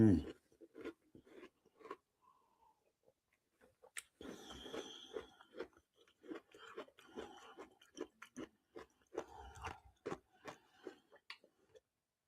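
Butterscotch crunch biscuits are chewed close up, with irregular crisp crunching and clicking bursts, mostly in the second half, separated by quiet gaps.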